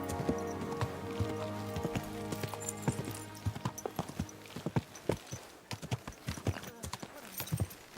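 Horse hooves clip-clop in the Kingdom Come Deliverance 2 video game, starting as a soft walk and quickening into a loud, evenly paced rhythm of sharp strikes, with a voice talking intermittently over them.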